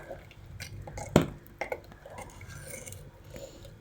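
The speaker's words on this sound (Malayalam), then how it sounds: "നമുക്കതിലോട്ട് അരച്ച് വെച്ചിരിക്കുന്ന തേങ്ങ ചേർത്ത് കൊടുക്കുകയാണേ. നല്ലതുപോലെ ഒന്ന് ഇളക്കി കൊടുക്കാം" Ground coconut stirred into a meatless fish-style curry in a pot, with a sharp utensil clank against the pot and a few lighter scrapes and clinks over a quiet kitchen background, no talking.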